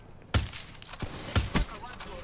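Sniper rifle fire in a snipers-only video game match: a few sharp, loud shots spaced apart over a couple of seconds, with fainter gunfire between them.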